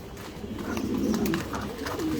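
Pigeons at a loft farm in Mirpur 13 cooing and shuffling while being fed, a steady low murmur of coos with soft wing and feeding noises throughout, close and moderately loud, no talking.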